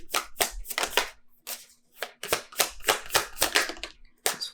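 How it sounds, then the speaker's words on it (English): Tarot cards being drawn and handled from a deck, a rapid run of crisp flicking and slapping card sounds in quick bursts, close up and with no talking. "Let's get some more cards from this deck."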